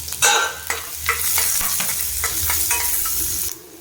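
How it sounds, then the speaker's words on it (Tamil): Onions, garlic and curry leaves sautéing in a pan for brinjal tamarind curry, with a steady sizzle and repeated scraping stirs of a spoon against the pan, close and fairly loud, with no talking. "கருவேப்பிலை இது எல்லாத்தையும் ஆட் பண்ணிக்கோங்க. இதெல்லாம் வந்து நல்லா வதங்கணும்."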